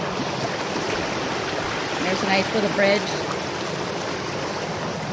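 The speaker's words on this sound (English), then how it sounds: "I'm gonna show you the creek here a little bit." A creek flowing through Logan Canyon gives a steady, broadband rush of running water, continuous throughout and heard up close beneath a voice speaking.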